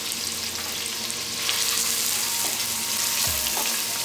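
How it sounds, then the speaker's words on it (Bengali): Chopped onions sizzle lightly in hot oil for a Bangladeshi beef or goat vuri bhuna, a steady close frying hiss with an occasional stir scraping the pan. "এবার পেঁয়াজটাকে হালকা ভেজে নিতে হবে।"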